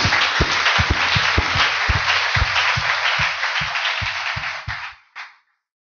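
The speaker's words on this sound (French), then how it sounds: "Applaudissez le Seigneur Jésus-Christ" A church congregation breaks into steady, dense applause that carries on for about five seconds before cutting off abruptly, with a few louder claps standing out near the front.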